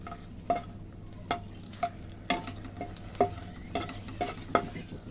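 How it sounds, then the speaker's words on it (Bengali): Dry red chillies fry in hot oil in a wok with a low steady sizzle, punctuated by regular metallic scrapes of a spatula about every half second. "এবার আমি লঙ্কা, পেঁয়াজ আর আদাটাকে একটু ফ্রাই করে নেব"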